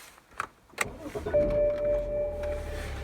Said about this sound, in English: So I'm going to start the car.